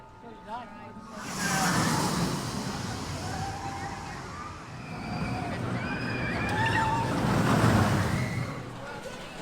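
Rita launch roller coaster at Alton Towers roaring along its track, with a loud rushing wind-like blast that builds and stays heavy throughout, while riders shout and scream over it.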